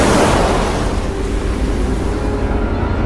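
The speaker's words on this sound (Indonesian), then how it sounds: "terdengar suara ombak menghantam keras padahal mereka masih jauh dari" Heavy waves crash hard in a loud, continuous roaring wash, used as an eerie horror-film effect.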